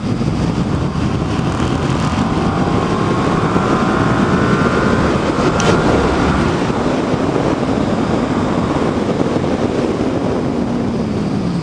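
A 2018 Yamaha MT-07 motorcycle engine heard while riding, a loud steady drone under heavy wind rush that carries on without a break.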